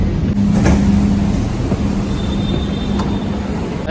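Kanpur Metro train standing at IIT Kanpur station, a steady low rumble and hum from the train and platform with a faint high whine, close and continuous.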